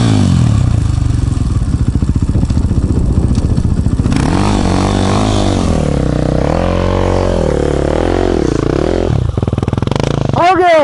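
A motocross motorcycle engine sputters loudly, then revs up and down in uneven surges with too little throttle, with people shouting over it briefly.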